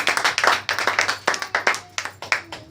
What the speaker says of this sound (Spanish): Sí puede alabar al Señor con un aplauso.